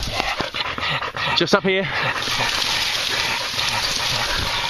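Dogs whimper, pant and yap excitedly during a night possum hunt in Christchurch, New Zealand, with a sharp burst of yelps midway while a man calls out over them.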